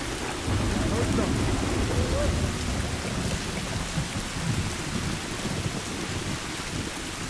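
Steady rain and rolling thunder in the post-apocalyptic video game The Last of Us fill the whole stretch, with a dense broadband downpour and low rumbles beneath, while faint voices drift in under the storm.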